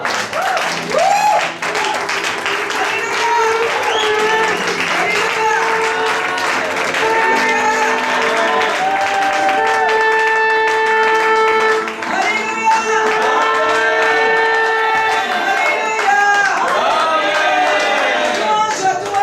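A church congregation at a French-language worship service claps and acclaims the Lord, sustained applause mixed with raised, sung and shouted voices that rise and fall throughout.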